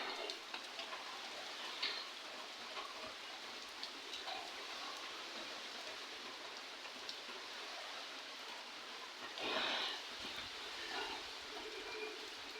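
Rain falls steadily on a wet village morning, a faint, even hiss of drops that runs throughout and thickens briefly near the end, with no voices.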